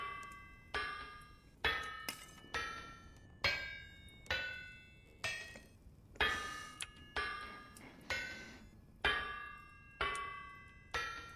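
A power hammer clangs during automated blacksmithing in the video game Vintage Story, with a long run of about fifteen bright metallic strikes at a steady pace of just under one per second, each ringing briefly before the next one lands.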